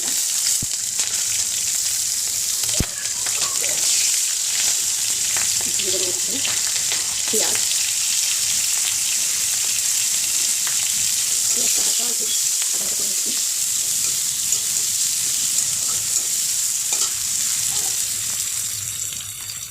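Cumin and black cumin seeds with a dried bay leaf sizzle steadily in hot oil for a Bengali small-fish curry, a dense continuous frying hiss with occasional stirring scrapes throughout, no talk.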